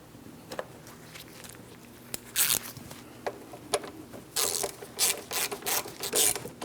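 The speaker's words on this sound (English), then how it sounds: "let's snug and torque that banjo bolt down to 37 foot-pounds" A ratchet wrench clicks as it snugs and torques a front brake hose banjo bolt on a 2003-2007 Cadillac CTS, sounding as short close bursts of rapid clicking, quiet at first and then busier in the second half.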